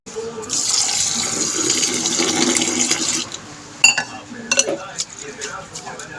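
Tap water running into a pot of rice set to soak for saffron pilaf, a steady splashing rush that stops after about three seconds, followed by clinks and scrapes of the pot and utensils close by.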